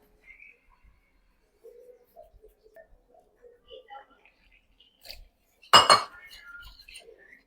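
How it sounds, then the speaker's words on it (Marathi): A spoon stirs besan and rava chilla batter in a bowl with soft, scattered scrapes and light clinks, then one louder clatter of metal against the bowl. Quiet, close and without talk. "एकदम असं छान मिक्स करून घ्यायचं आहे"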